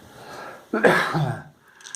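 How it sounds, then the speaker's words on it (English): A single harsh hay-fever cough bursts out close by after a stretch of quiet background, followed by a brief rasp trailing off. "Bit of that hay fever causing me a cough today."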